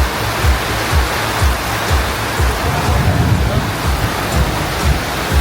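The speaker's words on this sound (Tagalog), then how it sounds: "Ang lakas na po ng ulan." Heavy rain falling at Chatuchak Weekend Market in Bangkok, a loud, dense, continuous roar of water with low rumbling beneath it.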